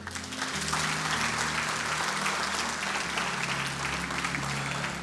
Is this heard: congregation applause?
yes